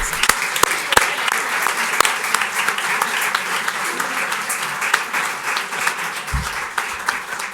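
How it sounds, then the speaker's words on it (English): Audience applause for the candidates at a League of Women Voters candidates event in Kane County, a steady wash of many hands clapping with a few sharper close claps standing out. "let's have a round of applause for these guys"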